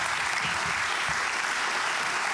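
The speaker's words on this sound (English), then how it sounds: "So, big round of applause for Geert Kloppenburg." An audience gives a round of applause at the closing session of a mobility conference, dense continuous clapping at a steady level throughout.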